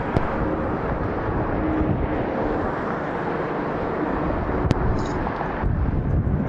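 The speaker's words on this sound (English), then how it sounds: "Arriving, we've got Southwest Airlines 6 coming in from Orlando to Atlanta" Southwest Airlines plane arriving at Atlanta International Airport, a broad steady jet roar with wind rumble, heard from outside and fairly loud, with a few sharp clicks; no talking.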